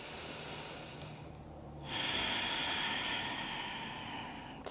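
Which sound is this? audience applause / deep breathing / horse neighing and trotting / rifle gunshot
deep breathing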